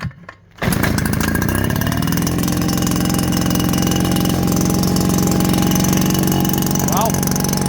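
A 65 cc two-stroke engine with a big expansion-chamber muffler on Temu power equipment, with no clutch, starts up and runs loud and steady at high revs, with a brief voice near the end.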